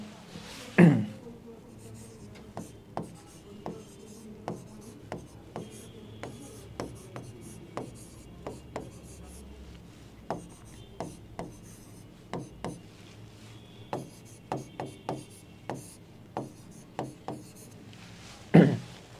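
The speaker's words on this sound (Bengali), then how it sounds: "তো যেটা দেওয়া হচ্ছে সেটা আমরা লিখে ফেলি।" Chalk or marker taps and scratches on a board as a maths problem is written out, a steady run of sharp strokes and knocks with quiet pauses between, close and mostly alone.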